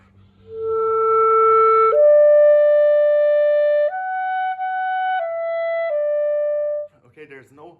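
A clarinet plays slow sustained long notes from the Adagio of Mozart's Clarinet Concerto, held flat and static without expression, about five steady tones stepping between pitches, close and clear, followed by a brief breath at the end.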